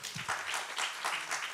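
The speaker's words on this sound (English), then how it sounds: "Let's start with a very big clap." An audience claps briefly for a Kathak dance performance at an NCPA festival, a soft, distant patter of many hands with no voices over it.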